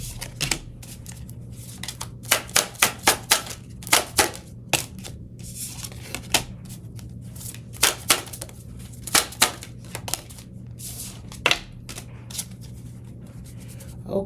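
Tarot cards are shuffled and drawn by hand. Bursts of crisp riffling and slapping come in irregular clusters, with quieter rubbing between them over a steady low hum, all close up.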